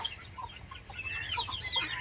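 Native country chickens in a coop made of sticks cluck and chirp softly through the whole stretch, moderately close, over a low steady background hum with no talking.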